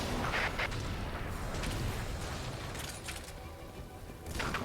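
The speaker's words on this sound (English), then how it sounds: "Rockets, fire!" Rockets firing in Earth Defense Force 5, a sustained roar of launches and booming blasts with sharp bursts at the start and end, loud and dense throughout, no voices.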